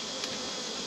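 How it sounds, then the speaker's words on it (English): Bees in a hive box give off a steady, close buzzing drone that holds even throughout. No voices are heard. "but it's full of bees."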